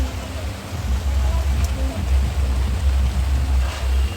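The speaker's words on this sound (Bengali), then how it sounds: "আর এখন এত বৃষ্টি হচ্ছে" Dense rain patters steadily with a low rumbling undertone, continuous and fairly loud throughout, with faint voices in the background.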